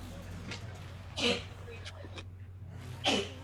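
A short, sharp sneeze from a person at a tabletop roleplaying game session, followed by another breathy burst, with quiet room hum underneath.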